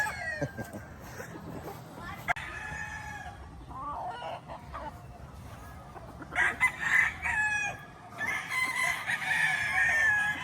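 Chickens and roosters sheltering from the hot sun on a farm cluck and call repeatedly, with louder crowing bursts in the latter half, fairly close, while a person talks at times.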